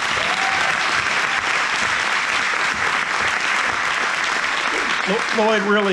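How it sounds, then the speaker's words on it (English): Steady, loud applause from an audience at an aviation fish fry event fills the whole stretch, with a voice starting to speak near the end. "let's give a round of applause to Lloyd."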